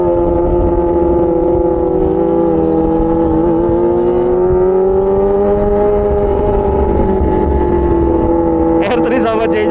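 A loud racing motorcycle engine, including a Yamaha R3, drones steadily with a sustained revving tone that rises and falls, close and continuous, ending with a brief burst of higher noise.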